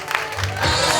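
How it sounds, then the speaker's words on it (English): Wedding guests cheer and clap for the bride and groom, a burst of crowd noise and applause that swells toward the end under a talking voice. "come on, someone more cheer there for the bride and groom"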